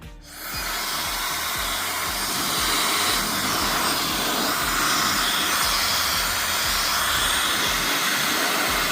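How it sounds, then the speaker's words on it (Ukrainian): A hair dryer powered by an EcoFlow River 3 Plus portable power station switches on and blows with a loud, steady whooshing hiss that holds for the whole stretch. "Перший на тесті у нас буде фен."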